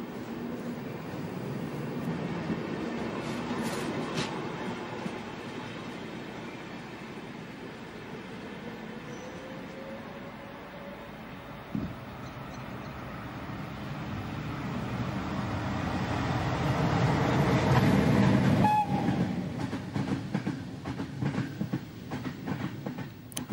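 A Class 103 electric locomotive hauls the first-class-only TEE Rheingold, an eight-car train of about 400 tonnes. A steady rolling rumble with rail noise swells louder toward the end as the train passes close.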